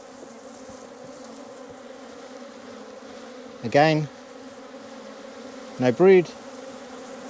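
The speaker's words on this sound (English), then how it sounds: "lots of bees stinging my gloves" A swarm of bees attacking a beekeeper on a farm in Portugal buzzes steadily in a dense hum, with a couple of louder, closer passes; a voice speaks briefly in between.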